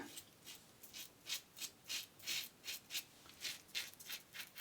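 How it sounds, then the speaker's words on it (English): A Yates Ti titanium safety razor scrapes across lathered stubble in a series of quiet, short, rhythmic strokes close to the microphone. "I'm shaving with my right hand"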